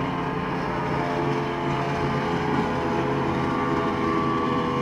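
A motorboat engine drones steadily close by near Sandvoll, a constant buzzing hum with no other sounds over it, holding the same level from start to finish.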